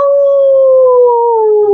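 A voice imitating a wolf howl, as in a children's story, rings out as a loud, steady, sustained tone that slowly falls in pitch over nearly two seconds.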